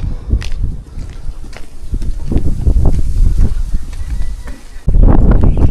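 Gusty wind buffets the microphone outdoors on a mountain potato field, bamboo swaying, rumbling steadily with louder bursts, while people talk in Filipino and footsteps move through the scene.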